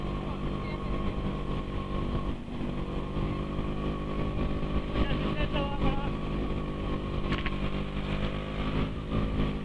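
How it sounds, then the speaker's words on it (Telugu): Lorries rumble past on a road with a continuous low engine drone and hum that swells slightly as they go by, heard under voices talking nearby. "లారీలు వస్తున్నాయి కదా"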